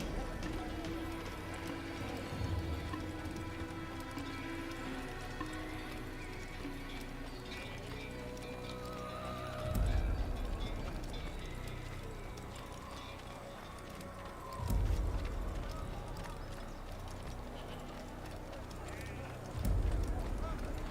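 Horse sounds from Assassin's Creed: hooves clopping steadily with occasional snorts and whinnies, several louder thumps at intervals, while a voice talks over it.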